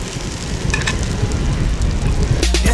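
Food stirred in a loudly sizzling pan, steady dense frying noise throughout with a few scraping utensil strokes near the end, no talk.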